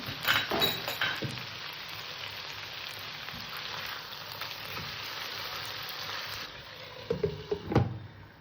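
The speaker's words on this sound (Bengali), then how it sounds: "ঢাকনাটা খুলে আমি আবার একটু নাড়াচাড়া দিয়ে দেবো" Chicken meat for chicken pulao sizzling and frying in a pot as it is stirred, a steady crackling hiss with a few louder scraping clatters near the end.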